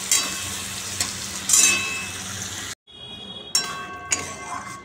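Red lentil dal fries in a pan with a soft, continuous sizzle, broken by sharp metallic clinks of a utensil against the pan and a brief drop into near silence partway through.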